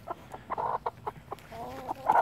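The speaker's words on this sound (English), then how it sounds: "I've never held a chicken in my life." Chickens cluck in short repeated bursts close by, some feathered on the feet, with a longer rising squawk near the end; no one speaks during the sounds.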